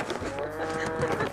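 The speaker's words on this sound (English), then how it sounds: "it's time to feed the cows" Cattle mooing at feeding time on a Central Florida property, several overlapping low moos close by and continuous across the moment, with faint human voices in the background.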